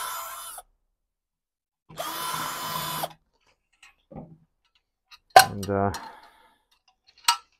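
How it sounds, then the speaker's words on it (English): A larger drill bit whirs in a short burst deburring a drilled hole, then after a pause a brief grinding buzz and a sharp tick, with a spoken word between. "So if we sit our larger drill bit in there, it just knocks those burrs off."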